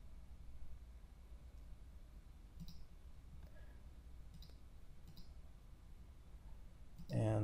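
Computer mouse clicked while working in 3ds Max. A few faint, sharp single clicks are spaced a second or so apart over a quiet background hum.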